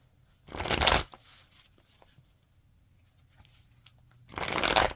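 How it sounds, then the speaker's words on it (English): Tarot cards are riffled in two brisk bursts, one near the start and one at the end, with a quiet pause between them. The papery flutter is close and clear. "I guess I should have showed y'all while I'm shuffling"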